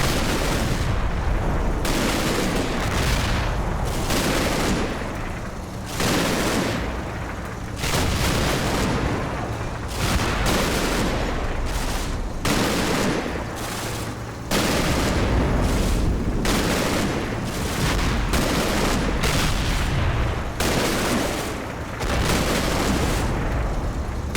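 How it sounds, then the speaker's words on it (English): A neighbouring tank lays down covering gunfire in the World War II tank game Combat Mission Red Thunder. Loud, dense bursts of shots and booms keep coming with only brief gaps, filling the whole stretch without any voices. "So neighboring track gives it covering fire."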